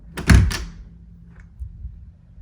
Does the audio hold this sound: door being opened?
yes